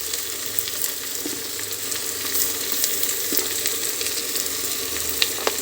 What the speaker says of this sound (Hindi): तो लहसुन अदरक पेस्ट को भी साथ में फ्राई कर लेंगे